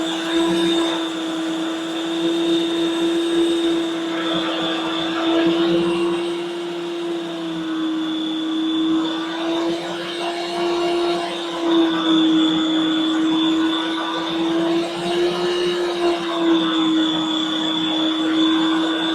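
A Ninja CREAMi Deluxe ice cream maker runs with a loud, steady motorized whine and drone whose pitch rises and falls slightly as the blade speeds up and slows down, close and continuous without talking.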